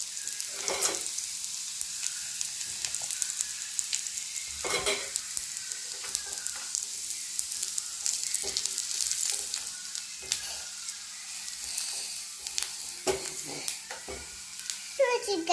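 Onions, chili powder and garam masala sizzle in hot oil for a paneer and capsicum gravy while a spoon scrapes and stirs around the pan in intermittent strokes, close and steady throughout.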